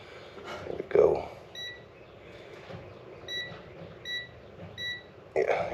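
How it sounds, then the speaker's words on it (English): Several short, high electronic beeps from a multimeter continuity tester, used while repairing a Cub Cadet RZT 42 zero-turn mower, sound at a fairly regular pace, interleaved with a person talking and some handling noise. "here's our beep noise"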